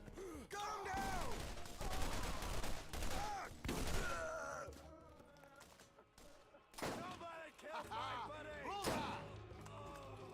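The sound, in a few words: gunfire in a video game (Borderlands)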